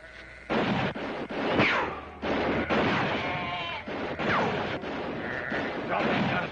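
Gunshots during a showdown in a Bonanza western episode, several sharp loud bangs spread irregularly among shouted dialogue and scuffling, close and punchy.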